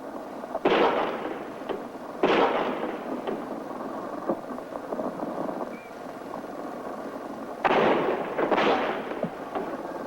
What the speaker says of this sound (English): At least 4 shots were fired